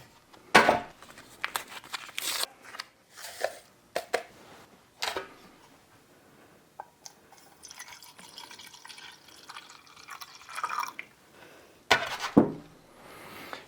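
Water trickles and drips into a metal canteen cup for lemon iced tea drink mix, coming in short, irregular pours and splashes, close and fairly quiet, with no talk.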